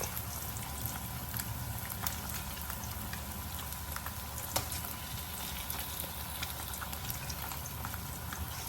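Catfish frying in hot oil in a home kitchen, a steady dense crackle and sizzle with fine bubbling pops, close and even throughout.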